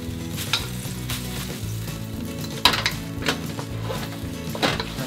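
Chilies stir-frying in a hot wok for pancit canton, a steady close sizzle broken by scraping, clattering tosses of a utensil against the metal pan, with no voices.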